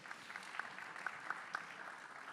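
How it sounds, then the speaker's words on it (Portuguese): Audience applause at a business convention panel, steady clapping from a crowd that holds at a moderate level throughout with a few sharper individual claps. "salve de palmas mais uma vez"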